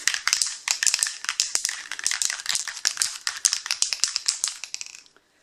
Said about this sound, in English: Give the can a good shake.